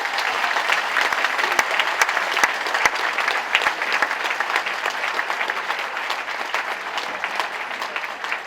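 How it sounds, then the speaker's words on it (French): Sustained audience applause at a 2010 cabaret evening in Noduwez, a dense steady patter of many hands clapping for the volunteers, loud and unbroken throughout with no voices over it. "Et c'est à vous maintenant, avec vos applaudissements, à le faire."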